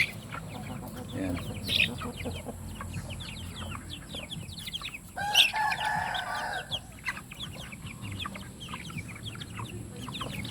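Native Basilan chickens on a farm, with hens clucking steadily and a rooster crowing once around the middle, plus chicks cheeping amid a busy outdoor background; someone speaks briefly.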